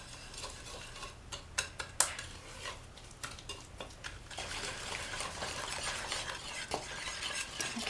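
A utensil stirs an egg into bun dough for Fastelavn buns in a bowl, with uneven scraping and knocking taps, then a denser continuous mixing noise in the later half; no talking.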